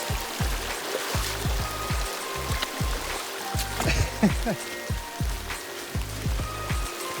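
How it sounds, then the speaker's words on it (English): Steady rain patters and drips close by on Isle Royale while people wade across a stream, with splashing water and footsteps, and a voice speaks briefly over the constant wet hiss. "It's still raining. It's been raining for at least an hour"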